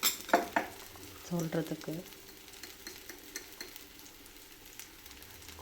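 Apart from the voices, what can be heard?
stirring mint chutney mixture in pan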